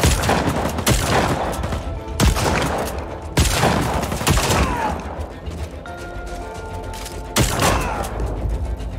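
Powerful shotgun blasts in the action game Just Cause 4 boom out several times at irregular intervals, each with a rumbling tail, amid loud ongoing game noise.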